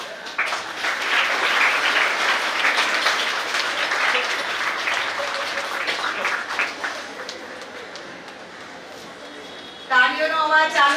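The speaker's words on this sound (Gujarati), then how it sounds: "તાળીઓનો અવાજ ચાલુ રહેવો જોઈએ। તમારી તાળીઓ આ કાર્યક્રમની શાન છે।" Audience applause at an Independence Day celebration, a dense, sustained wash of clapping that slowly thins out, followed by a brief burst of louder sound at the end.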